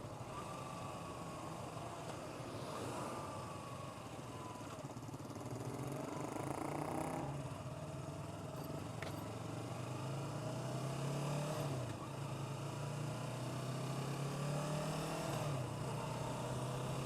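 Motorcycle engine droning steadily and dropping through the gears as the rider slows for a speed bump, pitch falling then swelling again, close and continuous with wind noise and no talking.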